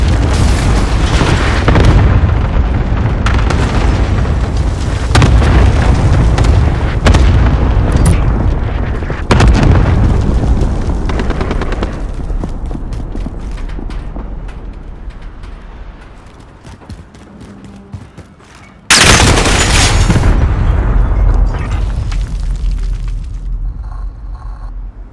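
Cluster strike explosions in Call of Duty Modern Warfare on the Piccadilly map, a rolling barrage of heavy booms and blasts, loud and dense, fading toward a lull before one sharp, huge burst followed by further rumbling detonations.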